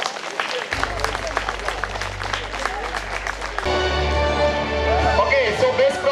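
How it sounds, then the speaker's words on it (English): A round of applause from the audience at a Rotaract district award ceremony, crowd clapping under background music, growing fuller and louder in the second half. "Let's give a big round of applause, guys."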